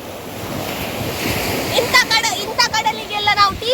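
Sea waves break on the shore during crab net fishing, giving a steady broad surf wash throughout with louder surges, while voices talk over it in the second half.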